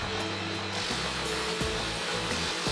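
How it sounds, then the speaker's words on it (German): A shoe grinding machine runs steadily in a cobbler's workshop, with a loud constant motor whine and an abrasive grinding tone that shifts as work is pressed against the wheel. "Alles, was das Messer nicht schafft, richtet der Schuster an der Schleifmaschine."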